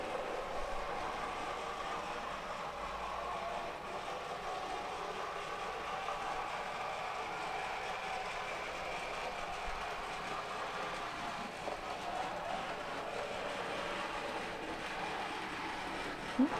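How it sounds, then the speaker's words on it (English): An older Farish model locomotive hauls free-rolling LNER Thompson coaches around a layout, producing a steady, faint mechanical whirr and rolling hum that holds evenly throughout with no pauses. "it has no issues pulling these very free rolling coaches"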